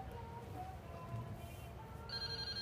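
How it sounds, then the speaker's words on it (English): Telephone ringtone, a steady electronic ring, fairly faint under background hiss. A sharper tone joins near the end. "I know how to make that phone ring"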